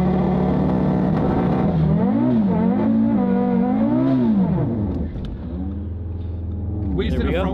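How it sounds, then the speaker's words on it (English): A front-wheel-drive Audi holds a stationary burnout to warm its tires, the engine revving hard and rising and falling in pitch close by, dipping briefly before climbing again near the end. "do burnouts with you know, stationary burnouts just to get the front wheel drives burning"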